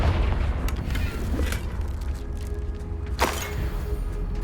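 A Confringo blasting spell explodes in the Hogwarts Legacy video game, deep booming impacts over a low rumbling game soundscape, with sharp bursts near the start and a stronger blast later.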